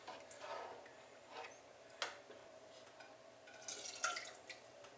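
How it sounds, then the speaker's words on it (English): Whey dripping out of the holes of goat cheese molds, a few faint, irregular drips and small splashes over a soft background hiss, close by with no talking. "The whey will leak out them holes."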